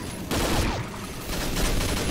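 Rapid automatic gunfire in the online shooter Combat Arms, a loud burst of overlapping shots breaking in suddenly after a brief quiet, then continuing in a dense rattling volley.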